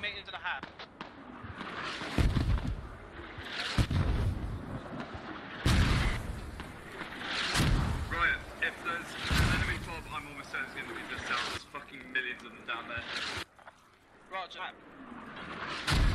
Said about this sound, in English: there's smoke mortars